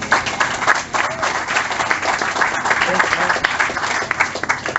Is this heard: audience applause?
yes